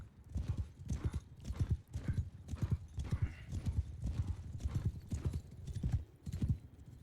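Horses in the video game Mount & Blade II: Bannerlord gallop, hooves pounding in a fast, steady rhythm, heavy and close, with no talking.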